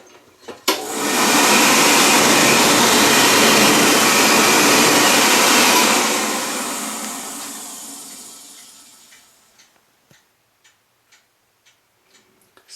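A loud, steady rushing blast of air from a 1920s vintage electric hand dryer in a bathroom runs for several seconds, then winds down and fades, leaving faint ticking clicks.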